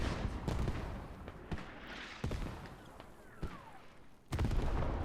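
Mortar rounds and crossfire thump and crack in an esports match of the game Squad, with distant booms landing at irregular intervals over low battlefield rumble and no talk.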